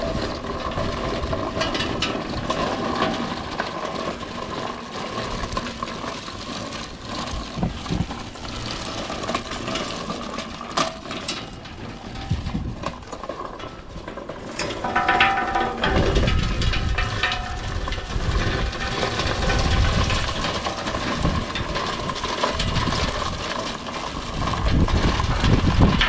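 A Vevor push lawn sweeper rolls across a lawn, giving a steady whirring, clicking mechanical rattle from its gears and brushes that runs continuously and swells louder in the second half, with no talking.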